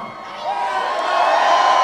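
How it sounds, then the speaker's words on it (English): An arena crowd at a Donald Trump rally in Loveland, Colorado, cheering and whooping, a dense, swelling roar of many voices that builds steadily over a couple of seconds. "Nice crowd."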